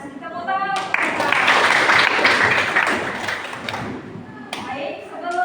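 Classroom applause for students in a school lesson, a dense burst of clapping swelling in the middle and fading, with a teacher's voice speaking before and after it.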